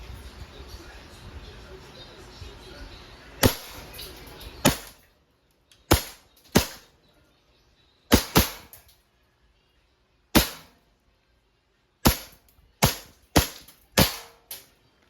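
An EMG John Wick 3 gas blowback airsoft pistol firing in a quiet room, about ten sharp, snappy cracks spaced irregularly, some in quick pairs, loud and close with silence between shots.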